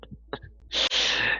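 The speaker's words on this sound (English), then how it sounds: "There I go again, sneezing away things." One sharp sneeze, a quick intake followed by a loud bursting exhale, preceded by a few soft breathy sounds.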